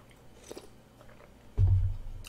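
Close, wet chewing and biting on very spicy Cheongju dumplings at a mukbang meal, with soft mouth sounds and then a louder crunching bite near the end.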